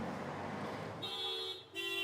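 A car horn toots on a road, with two short tonal beeps standing out over a broad rush of passing traffic noise.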